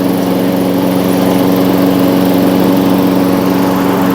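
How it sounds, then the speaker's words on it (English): A Poulan Pro self-propelled lawn mower engine runs steadily and loudly up close, a continuous buzzing drone with no change in pace and no voices. "I'm going to run this a little bit, get the engine nice and warm, then we're going to change the oil in it."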